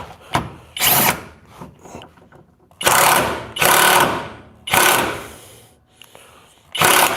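An impact wrench tightens a suspension bolt on a 2013 Kia Optima during control arm repair, firing in several loud, rattling bursts of about half a second to a second, with short pauses between them.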